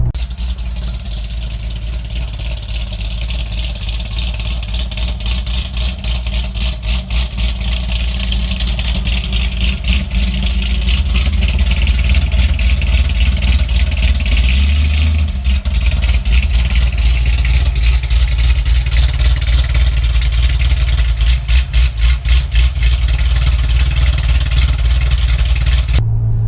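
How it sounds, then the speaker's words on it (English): A deep, loud cammed V8 in a 605 hp 2006 Corvette Z06 idles steadily for the whole stretch, with a choppy, uneven rumble and occasional small swells in level, no voices. "The idle on this car when it sits still, I mean, yeah, you gotta hear it."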